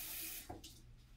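Running water from a tap splashes briefly into a bedpan as it is rinsed, a short hissing spray that quickly trails off.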